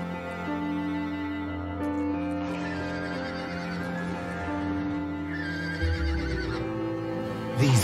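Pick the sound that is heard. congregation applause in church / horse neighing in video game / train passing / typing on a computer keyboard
horse neighing in video game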